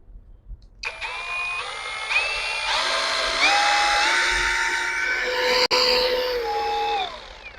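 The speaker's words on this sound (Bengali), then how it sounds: "আপনাকে একটা ফিজিক্যালি একটা মেশিন একটু রান করে দেখাই।" A battery-powered power tool running on a 2 amp battery pack, a steady whirring motor drone that shifts pitch in steps as its speed changes, loud and close, with a brief sharp click near the end.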